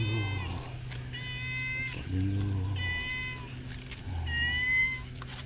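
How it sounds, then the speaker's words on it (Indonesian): A cat meows repeatedly beside a seaside prawn-fishing spot in Kedah, Malaysia, four drawn-out, fairly close calls at a steady pace over a low background hum, with no talk. "Tu kucing minta jamu."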